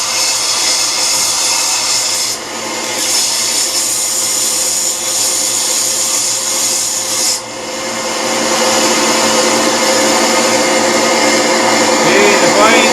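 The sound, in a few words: sander machine smoothing a pole spear slip tip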